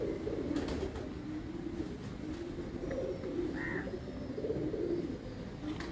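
A large pigeon coos softly amid steady low rumbling background noise, the murmuring calls rolling along continuously with a brief higher chirp near the middle.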